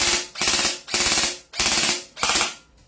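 Trex airsoft gun firing on rapid fire in four loud, sustained bursts of about half a second each, separated by brief gaps, with no talking.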